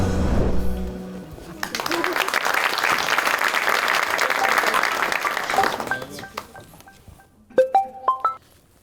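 Studio audience on a comedy show breaks into loud, dense applause after a brief spoken intro, the clapping holding steady for several seconds before cutting off, followed by a few bright electronic beeps.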